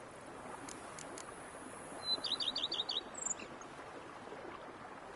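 Birds in The Witcher 3 give a quick run of bright chirps over a quiet outdoor ambience, a short rapid burst of repeated tweets midway with a few faint calls around it, no voices.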